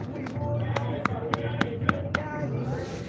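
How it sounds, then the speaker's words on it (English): Several hollow knocks from tapping a ripe yellow jackfruit, spaced about half a second apart, sound close over a low steady background hum. "That is the sound of ripe and yummy yellow jackfruit."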